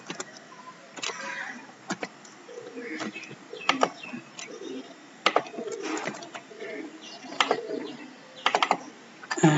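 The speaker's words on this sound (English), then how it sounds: "and I'll type in password." Computer keyboard keys tapped in irregular bursts while a password is entered, close and fairly quiet, with a faint low hum beneath.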